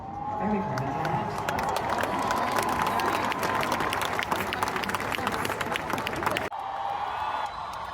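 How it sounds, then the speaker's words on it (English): A concert crowd at a show in Munich cheers and claps for a couple who just got engaged, a dense, sustained roar of applause and shouting that fills the space and then drops abruptly near the end. "Did you hear them cheering?"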